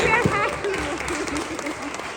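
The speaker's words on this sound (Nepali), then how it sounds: "ताली बजाइरहनेछौँ हामी सबैजनाले" Wedding guests clap together during a cake-feeding moment, a brief patter of applause mixed with voices close by.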